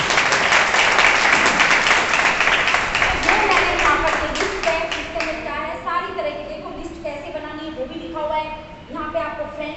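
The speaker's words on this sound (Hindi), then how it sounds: "अपने आप के लिए तालियां बजा लो एक बार।" A seminar crowd in Agra claps loudly in a dense burst that thins after about five seconds as a voice begins speaking over the fading applause.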